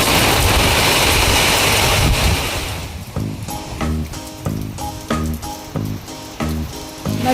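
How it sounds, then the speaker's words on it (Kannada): Rain falling in Bangalore, a loud dense wash of hiss for the first couple of seconds that then thins out and gives way to a rhythmic tonal pattern with repeated beats. "ನೋಡಿ ಫ್ರೆಂಡ್ಸ್, ಮಳೆ ಬರ್ತದೆ"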